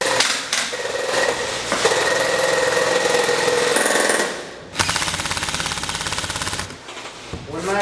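A KWA MK18 airsoft rifle firing full auto during an indoor close-quarters airsoft game, with long rapid mechanical rattling bursts close by, a brief pause, then another steady burst, mixed with background game noise.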